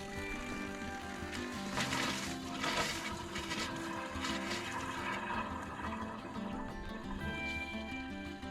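Water rushes steadily and loudly through a newly installed underground water line and hydrant at a chicken coop, a continuous turbulent flow with no pauses.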